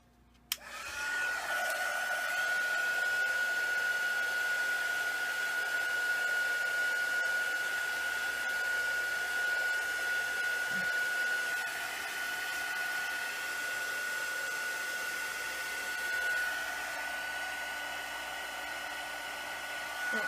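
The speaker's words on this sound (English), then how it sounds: "Let me see if I can get my heat gun to work." Heat gun switching on with a click and then blowing hot air in a steady, fairly loud whooshing roar with a faint tonal whine, running continuously while working on wooden sitter blocks.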